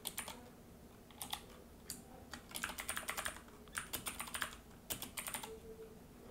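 Typing on a computer keyboard in irregular bursts of quick, close keystrokes with short pauses between runs, fairly quiet and with no voices.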